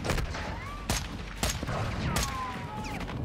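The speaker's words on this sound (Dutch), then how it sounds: "Het is ook een submachine gun" Short, sharp bursts of submachine gun fire ring out three times in Call of Duty Modern Warfare II, with faint whistling tones and steady battle ambience between them.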